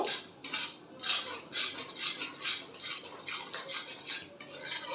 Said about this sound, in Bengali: এবার এখানে আমি গুঁড়ো মশলাটা পুরোটাই দিয়ে দিচ্ছি ব্যাস ভালো করে নেড়ে চেড়ে নেব